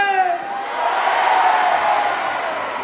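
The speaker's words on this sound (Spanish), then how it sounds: "Agora damos un grito," Festival crowd at the Paris de Noia orchestra show in Santa Mariña, Ferrol, letting out one long, loud collective shout that swells and holds for nearly three seconds, dense and roaring.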